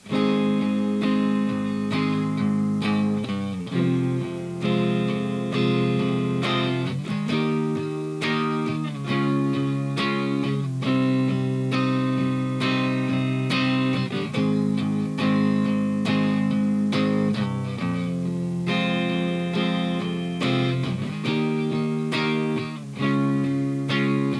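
Electric guitar strums a repeating chord progression in a steady rhythm, full and sustained throughout, with no voices.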